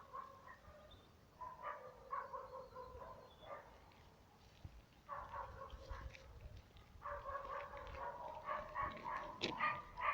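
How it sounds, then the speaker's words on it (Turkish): Dogs bark repeatedly from a distance in irregular bursts, deep and echoing, against quiet outdoor background. "Köpekler çok büyük."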